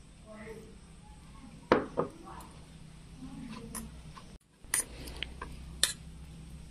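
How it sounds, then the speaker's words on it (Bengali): A spoon stirs semolina soaked in a little water in a bowl, giving a few sharp taps and scrapes against the bowl, spaced out and fairly close, over quiet room noise. "শুধু সুজিটা ভিজানোর জন্যে এটা আমি ভালো করে একটু নেড়ে নেব"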